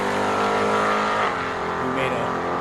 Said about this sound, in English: You can hear it hit the rev limiter.